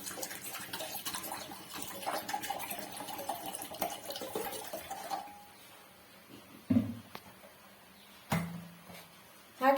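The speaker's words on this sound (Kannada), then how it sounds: "ಇಲ್ಲಿ ಟೀ ಮಾಡೋದಕ್ಕೆ ಅಂತ ನಾನು ನೀರು ಹಾಕೋತಾ ಇದ್ದೀನಿ" Water pours steadily into a pot for tea for several seconds, then stops, followed by a few clanks of metal cookware.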